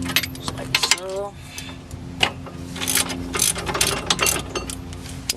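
A ratchet wrench works wheel lug nuts loose during a wheel stud replacement, giving bursts of quick mechanical clicking at close range with a few metallic clinks between them.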